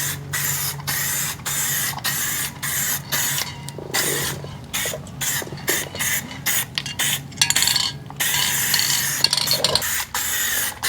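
HyperDip coating sprayed from an aerosol can fitted with a trigger handle onto a Toyota 4Runner wheel: repeated short hissing bursts with brief gaps between them, close and loud, with faint clicks and handling noises between passes.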